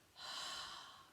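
A single drawn-out in-breath during a warm-up exercise, a soft airy inhale that swells, holds steady for about a second, then tapers, close and fairly quiet with no talking.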